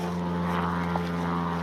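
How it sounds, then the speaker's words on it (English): An airplane flies overhead outdoors, a steady loud propeller-like engine drone with no other sound. "That plane can come crashing down right now."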